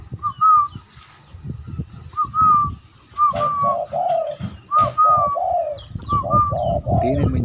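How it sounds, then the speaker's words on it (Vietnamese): A pet dove of a Vietnamese cuckoo-dove breed kept for about a year coos repeatedly in clear, close phrases, each a rising call followed by deeper rolling notes, over low background rumble and handling noise. "Thấy nó cu nhiều mọi người."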